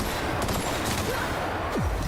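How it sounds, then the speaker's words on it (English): Rapid gunfire rattles from a firefight in The Outer Worlds, a continuous crackling fusillade held at a steady level, with a short whooshing sweep near the end. "Are you shooting?"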